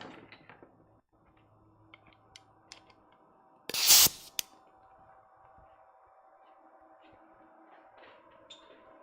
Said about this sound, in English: we just blow air on this thing